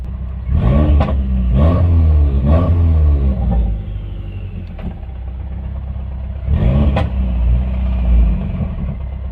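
A Subaru WRX with a broken clutch throwout bearing or fork revs loudly up close, its engine climbing and falling in repeated surges over a steady rumbling idle, with faint clattering underneath.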